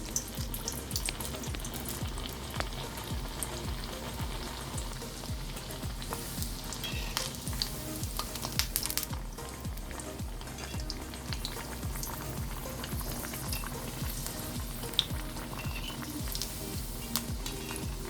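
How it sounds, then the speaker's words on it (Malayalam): Bread, rava and onion vadas fry in hot oil with a steady, close, crackling sizzle and dense bubbling that runs throughout, no voices over it. "എണ്ണയിലോട്ട് നമ്മൾ നടുക്ക് ഒരു കുഴി പോലെ ഇട്ട് കൊടുത്തിട്ട് നമുക്ക് എണ്ണയിലോട്ടിടാം."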